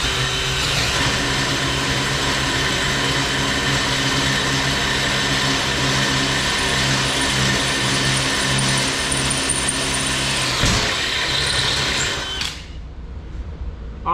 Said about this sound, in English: Now we're going to drill the rest of the way through this 2x12 and through the metal.